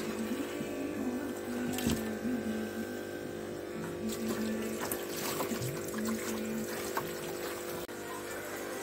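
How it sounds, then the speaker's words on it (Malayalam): Water runs into a homemade fish tank built from a fridge box, a steady pouring and trickling wash with occasional splashes, under a faint tonal hum. "ഒട്ടിച്ചിട്ട് ഒരു ദിവസം കഴിഞ്ഞു ഇനി വെള്ളം നിറയ്ക്കാവുന്നതാണ്"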